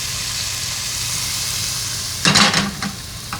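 Shallot tossed into a hot pan for sautéed vegetables bursts into a sudden loud sizzle after a steady background hum, then settles into crackling that fades over the next second.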